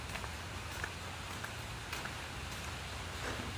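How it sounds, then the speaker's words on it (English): Light rain beginning to fall outdoors, a soft, even hiss of drops with faint patter, fairly quiet and steady with no voices over it. "Because it started to rain."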